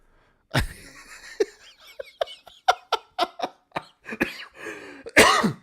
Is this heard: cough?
yes